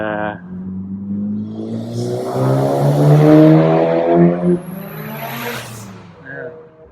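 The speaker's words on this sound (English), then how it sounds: "two more really loud cars" A loud car roars past close by, engine rising and then fading away, followed by a second vehicle passing more briefly.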